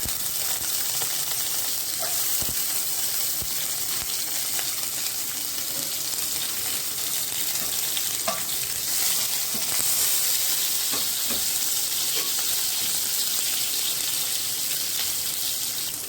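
Small shallots frying in sesame oil for mutton gravy, a steady broadband sizzle and hiss holding throughout at an even level, close, with only faint clinks and no talk.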